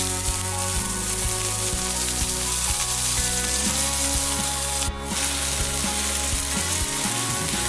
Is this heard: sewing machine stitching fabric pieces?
no